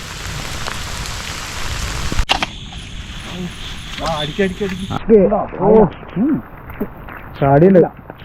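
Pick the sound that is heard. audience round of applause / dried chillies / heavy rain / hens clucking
heavy rain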